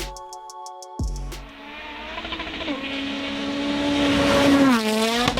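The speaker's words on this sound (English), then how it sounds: "As this professional photographer positioned himself to get the perfect shot of a rally car making a tight corner." A rally car on a tight corner, its engine roaring and rising in pitch as it slides, loud and near after an opening musical tone, with gravelly rushing noise building throughout.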